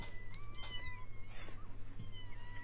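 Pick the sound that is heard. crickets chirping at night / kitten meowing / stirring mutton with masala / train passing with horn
kitten meowing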